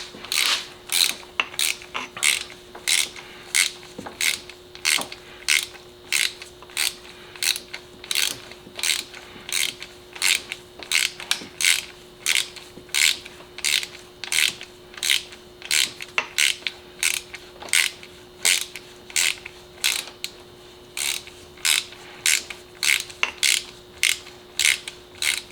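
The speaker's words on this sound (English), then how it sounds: "Once they get tight, then I kind of just run it down with the ratchet." A ratchet tightens bolts on an old Mercedes-Benz during a tune-up, giving a steady rhythmic run of sharp clicking strokes, close up with a faint engine-bay hum beneath.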